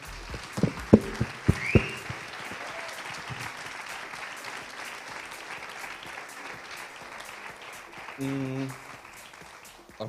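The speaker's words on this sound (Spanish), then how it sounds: "me gustaría que nos diéramos un aplauso para nosotros mismos." An audience at an arts event applauds steadily, with dense clapping that carries on for about ten seconds after a few loud sharp sounds at the start, and brief voices surfacing near the end.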